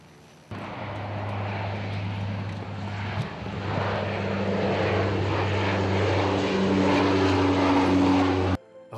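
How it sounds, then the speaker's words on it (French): Propeller airplane engines roar loudly in a steady drone that rises and swells as the plane rolls into its takeoff, with no voices, before cutting off abruptly. "Les moteurs tournent et le décollage semble imminent."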